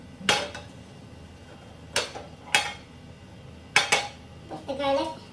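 Utensil strikes against a bowl while egg, bitter gourd and garlic are mixed together, four or five sharp clinks spaced irregularly, close and fairly quiet, with a faint scraping at the end.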